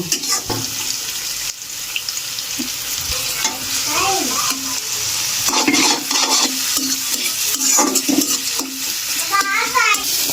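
Minced chicken mixed with turmeric, chili powder and ground black pepper goes into a hot pan, sizzling loudly under repeated scraping and stirring strokes, with a brief murmur of voice at times.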